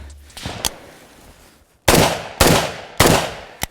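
Several sharp gunshots during street-combat shooting practice, first a faint pair, then three loud, evenly spaced blasts ringing out close by with short decays.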